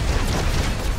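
A deep, rumbling explosion from an artillery barrage in the video game Planetside 2 fills the brief moment, loud and booming.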